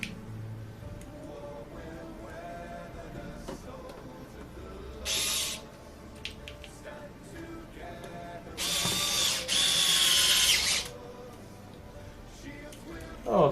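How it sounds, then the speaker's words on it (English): A small electric screwdriver drives screws into a hitbox game controller in short whirring bursts of a second or two, close up, separated by quiet pauses with faint handling noise. "This little screwdriver saves a ton of time."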